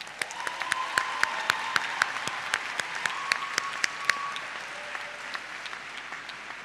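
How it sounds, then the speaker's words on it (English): At a final-year oath-taking and prize-giving ceremony, scattered, crisp individual claps ring out at an even pace through the hall for prize winners, moderately loud and fairly sparse, with no talk over them. "Let's give all our prize winners the last round of applause."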